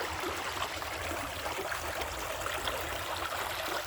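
A creek flows steadily with a soft, continuous rushing and trickling wash of water close by.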